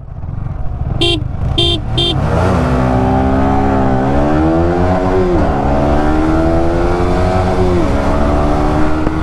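A few quick horn toots, then a Yamaha R15 V3 sport motorcycle engine roars loudly, revving up through the gears with rising pitch as it accelerates hard in a drag race.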